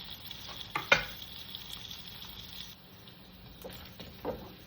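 Spam frying in a pan for a simple breakfast, a steady close sizzle with a couple of sharp scraping clatters as it is stirred, no talk.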